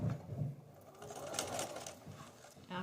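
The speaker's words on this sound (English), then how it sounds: "and I'm going to start sewing on my paper." A sewing machine stitches through paper during quilting, a soft, continuous rapid whirring run at close range, fairly quiet, with no talk.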